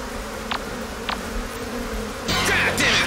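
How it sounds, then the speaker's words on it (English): Bees buzz in the video game Sucker for Love, a thin droning whine under a low ambient hum, with a couple of brief rising swells before a louder, denser burst of game sound near the end. "Trying to get her away from the bees"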